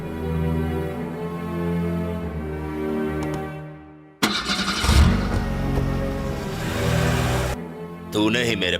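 A car is driven away in a Hindi film scene. Music plays first, then a loud engine surge and roar runs for several seconds and ends abruptly, with a voice speaking briefly near the end.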